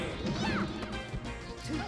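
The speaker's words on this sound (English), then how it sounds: "Some nice down smashes." Down smash attacks land in Super Smash Bros. Melee, with sharp crashing hits and swishes over a busy, dense mix of game sound.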